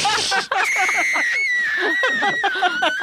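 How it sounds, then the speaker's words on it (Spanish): A woman screams loudly and at high pitch, with one long sustained shriek broken up by choppy, laugh-like vocal bursts, close and dominant throughout. "¿Es un grito o es el chillido de un animal?"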